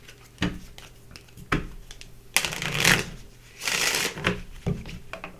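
Tarot cards are shuffled in several quick riffling bursts separated by short pauses, close and fairly loud.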